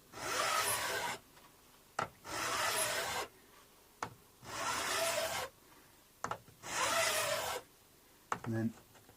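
A round file drawn across the guitar frets of a Les Paul copy in four long rasping strokes with short gaps between them, close and steady, followed by a few light taps.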